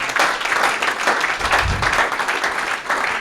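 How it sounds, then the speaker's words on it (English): A conference audience applauds after a talk, giving steady dense clapping throughout with a brief swell near the middle. No voices are heard. "give him a round of applause, a big one"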